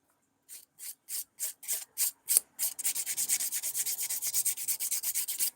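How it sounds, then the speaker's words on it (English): A hand file works on acrylic nails. It starts with several separate strokes, then settles into a fast, steady run of rasping strokes, close and clear. "I'm hand filing all this because my drill is dead"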